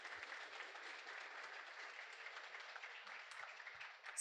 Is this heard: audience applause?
yes